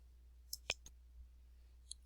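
A few sharp, quiet computer mouse clicks, spaced out irregularly, made while working a chemistry bonding simulation on screen, heard alone against a low steady hum.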